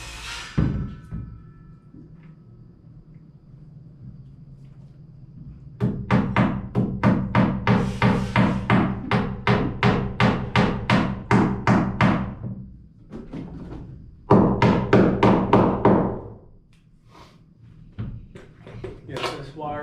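Hammer driving in a staple, a fast run of sharp, loud, close blows followed by a second shorter burst, with a short stretch of talk before the strikes.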